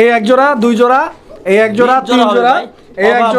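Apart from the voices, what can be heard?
No everyday noises stand out.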